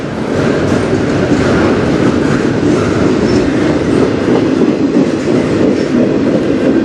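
CN 149 freight train rolling past close by, a continuous loud rumble with rhythmic clickety-clack of wheels over rail joints and faint wheel squeal throughout.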